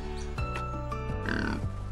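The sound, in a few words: babirusa, a wild pig native to Sulawesi, Indonesia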